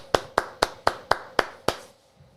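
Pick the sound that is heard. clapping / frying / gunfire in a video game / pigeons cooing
clapping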